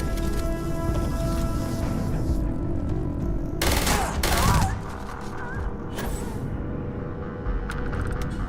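Gunfire in the video game Starfield, with a dense crackling volley of shots standing out in the middle over a steady bed of game ambience and a voice.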